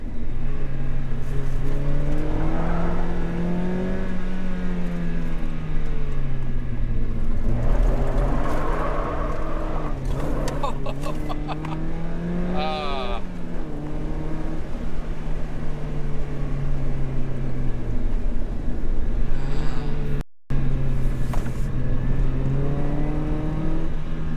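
A 130 horsepower car engine pulls hard through the gears, its tone climbing steadily, dipping at each shift and climbing again, loud and close for the whole stretch.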